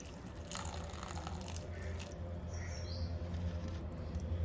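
Water splashes steadily into a chatti cooking pot over cucumber pieces for a Kerala-style kichadi, several seconds of continuous close pattering gush over a low background hum, with no talking.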